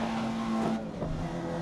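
Racing car engine in the Grid racing game, a steady loud drone with a brief dip as it drops a gear before the tone settles lower.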